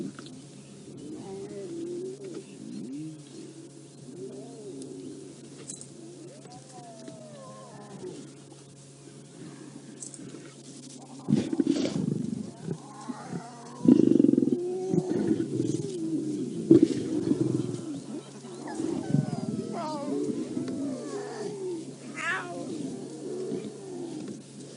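Lions of a pride feeding on a buffalo carcass in the African bush: low rumbling growls and soft tearing, crunching sounds, heard at moderate distance, louder in the middle. Faint ambient bird calls sit around them.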